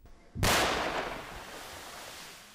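Explosive TNT charges set in drilled holes blast the ice on the Berlya River in Kaibitsky District, a sudden loud boom followed by a long rumbling, spreading roar that slowly fades over a couple of seconds with no voices.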